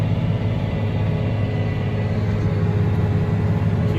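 A new tractor with an infinite variable transmission drags a large plow through a field, its engine giving a steady, loud low rumble with a constant drone and no breaks.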